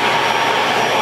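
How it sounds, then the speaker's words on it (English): A central vacuum cleaner's sweep inlet switched on inside a 2019 Grand Design Solitude 380FL RV, giving a steady, loud broadband whoosh and whine that runs evenly for about a second with no talk. "This is where you're going to have for your sweeping, your vacuum cleaner system"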